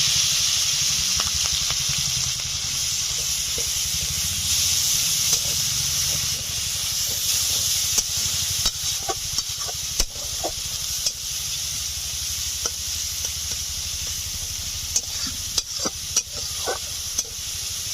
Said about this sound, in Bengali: পেঁয়াজ দেওয়ার পরে আমি 1 মিনিট মতো নেড়ে চেড়ে নিলাম।